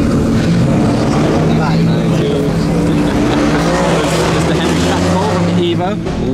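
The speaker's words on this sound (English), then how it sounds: "That thing sounds savage. Straight through exhaust." A Formula 1 car engine with a straight-through exhaust roars loudly and steadily, its raw high revs filling the scene while voices talk underneath.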